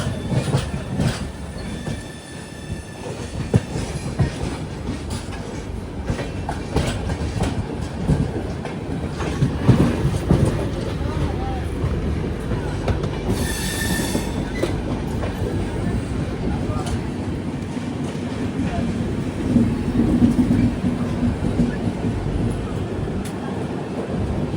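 The Agartala to Bengaluru Humsafar Express, running five hours late, pulls into Rajahmundry railway station with a loud, close rumble of wagons, clicking wheels over rail joints and bursts of wheel squeal.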